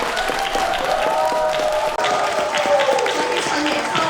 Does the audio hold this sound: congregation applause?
yes